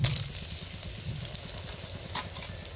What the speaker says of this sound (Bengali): পাঁচ ফোড়নগুলো একটু ভাজা ভাজা হয়ে গেলে এবার দেবো শুকনো লঙ্কা